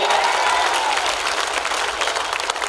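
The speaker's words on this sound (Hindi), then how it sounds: "एक बार जोरदार तालियां इस युवा कवि के लिए।" At a Hindi poetry gathering (kavi sammelan), a crowd claps hard and steadily for a young poet, a loud, continuous burst of applause with faint cheering mixed in.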